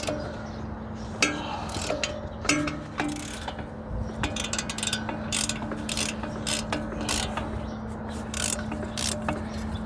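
Ratchet wrench turning a hub bolt on a BMW i3 during a hub replacement, producing bursts of rapid clicking strokes in an irregular rhythm, close and fairly clear over a steady background hum.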